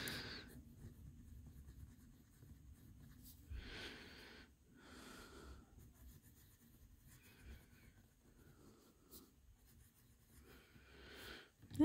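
Kaweco fountain pen nib scratching across paper in quiet, close strokes, a few brief bursts of writing separated by near silence.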